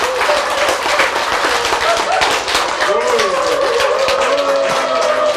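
A lecture hall audience applauds hard and cheers, dense steady clapping mixed with shouts and crowd noise throughout, loud and close.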